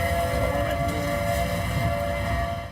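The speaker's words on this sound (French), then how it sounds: "on entend clairement les sirènes dans la municipalité qui indiquent aux résidents d'aller se réfugier aux abris" A tornado warning siren in a town wails continuously, holding a sustained droning tone with no break, heard from some distance over a low background rumble.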